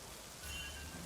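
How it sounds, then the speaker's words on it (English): Heavy rain falls as a dense, even hiss that swells slightly midway and holds steady, with no voices. "Why does this rain sound like piss?"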